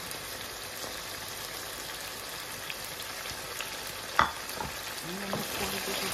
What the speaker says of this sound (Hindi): चिकन जी हमारा फ्राई हो चुका है, अब इसमें ऐड कर देते हैं नमक।